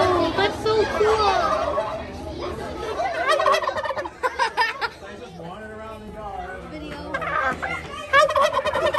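A turkey gobbles in bursts of rapid warbling calls, close by, at a pumpkin patch farm, with children chattering and murmuring around it.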